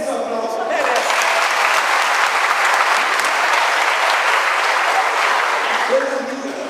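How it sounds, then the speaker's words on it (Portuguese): Sustained audience applause at a church event, loud and dense throughout, with a voice briefly heard at the end as it fades. "Merece um aplauso."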